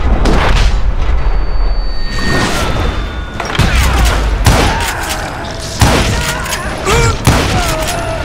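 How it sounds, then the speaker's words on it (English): Loud gunshots in a Western shootout in Call of Juarez Gunslinger, a series of heavy, booming reports at irregular intervals with ricochet whines and ringing tails between them. "now that the shooting has started, there was no backing down"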